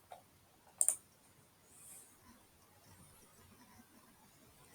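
A computer mouse gives a quick pair of clicks early on, with a few fainter ticks around it. The sound is close and quiet in a near-silent room, and no one talks.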